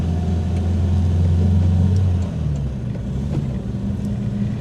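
1950s Austin A40 Somerset heard from inside the cabin, a steady loud engine drone that drops in pitch about halfway through as it shifts up into fourth gear, then settles into a lower hum.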